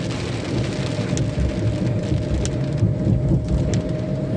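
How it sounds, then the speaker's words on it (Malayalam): Heavy rain pours steadily in a dense, constant hiss, with occasional louder drips and splashes nearby and no one speaking. "ഇവിടെ ഈ മഴ കാണിക്കാൻ വേണ്ടിയാണ് ഞാനൊരു വീഡിയോ എടുത്തത്"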